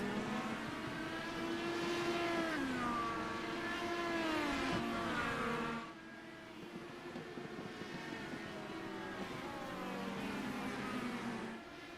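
IndyCar race cars lap the track, their engines loud and sweeping up and down in pitch as they pass, quieter after a drop midway and then building again.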